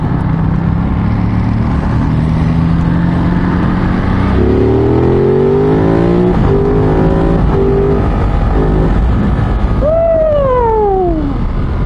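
A Ducati Monster motorcycle engine revs and accelerates through the gears, its pitch rising in repeated sweeps over loud steady wind rush heard from the rider's position. A quick shift is followed by a falling tone near the end.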